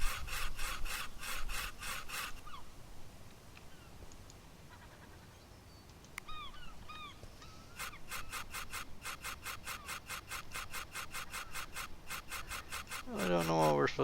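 A scraper works a surface in a house-flipping game, with bursts of rapid rhythmic rasping strokes separated by a quieter stretch with a few small clicks.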